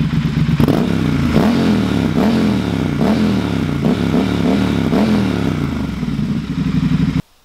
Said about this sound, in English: here is a shot of the temperature as well as the sound that these pipes make without any modifications